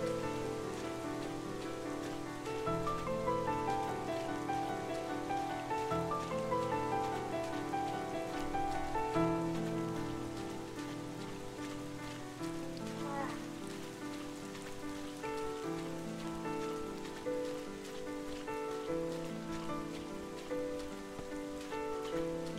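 Steady rain falls in the video game Bottle: Pilgrim, a constant even patter that stays at one level throughout with no break, mixed under gentle piano music and with no voices.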